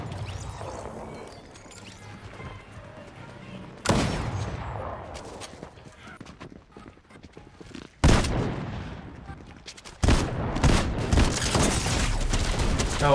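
Gunfire from a weapon in Fortnite Chapter 5, loud bursts that kick in abruptly and pile up into a dense, continuous barrage with booming impacts. Game music and effects play underneath.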